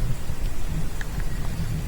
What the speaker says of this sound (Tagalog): umuulan ala hindi pa rin tumitigil ang ulan